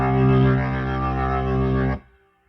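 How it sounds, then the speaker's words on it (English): A sustained organ chord from a Boss Organ Lunchbox pedal, thick and gritty with overdrive turned all the way up and gain mostly down, held loudly for about two seconds before cutting off abruptly. "for quiet volume overdrive, overdrive turned on, turned all the way up, gain turned most of the way down"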